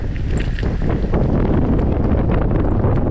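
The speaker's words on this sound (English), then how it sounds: "It's quite windy over here, not surprisingly." Strong wind buffeting the microphone while cycling in Montevideo, a constant loud rushing roar with gusty rumble throughout, no speech.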